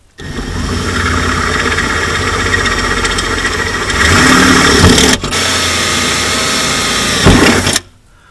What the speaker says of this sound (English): we're going to drill this out from inside to about a 3/8.